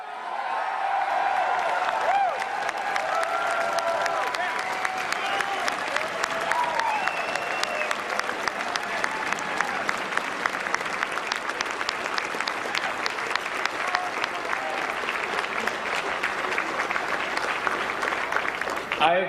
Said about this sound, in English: Can everyone give these candidates another round of applause?